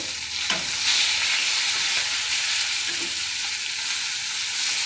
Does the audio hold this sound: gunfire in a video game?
no